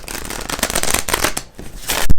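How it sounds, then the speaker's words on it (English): A tarot card deck is riffled and shuffled by hand, a close, loud flurry of rapid card flutters with a brief pause and a final snap, and no voice. "I pre-shuffled the decks, but I like to shuffle them one more time, split the deck 3 times"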